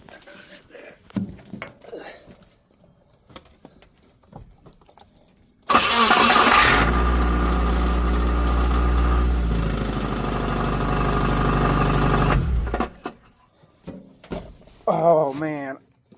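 A Geo Tracker engine cranks and catches, then idles loudly and steadily for about seven seconds under a droning exhaust before shutting off. Faint handling noises come before the start, and a voice speaks afterward.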